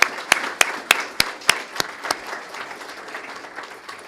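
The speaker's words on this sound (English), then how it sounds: "So a brief round of applause for Bob for stepping forward." An audience at a spring graduation and awards ceremony gives a brief round of applause, with a few evenly spaced sharp claps standing out over a scattered patter that thins toward the end.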